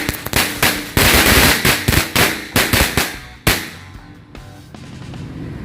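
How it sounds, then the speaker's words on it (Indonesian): Blue Corsairs match-type firecrackers go off in a rapid string of loud, sharp cracks and pops close by, crowded together for several seconds before stopping, with a faint hiss trailing after. "ini menyalakan mercon korek Corsairs yang warna biru"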